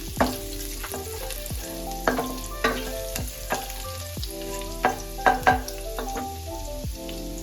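Chopped garlic fries in a pan over low heat, a steady crackling sizzle with light, periodic stirring scrapes and faint tonal hum underneath, close and continuous with no voices.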